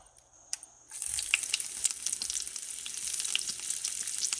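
Cauliflower frying in pork fat in a paella pan for a pork shoulder paella, a brief clatter at first, then a steady, loud sizzle that carries on unbroken with small crackles and pops.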